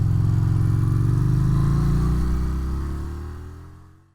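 A Harley-Davidson Street Rod 750 motorcycle fitted with a Vance & Hines FP3 tuner rides along with a loud, steady low engine rumble that holds for several seconds, then fades away toward the end.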